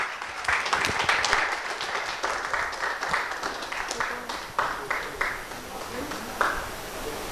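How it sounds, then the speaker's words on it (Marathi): A crowd at a student award ceremony claps steadily for several seconds, the sound dense and sustained with a few sharper claps standing out. "त्यासाठी टाळ्या झाल्या पाहिजे"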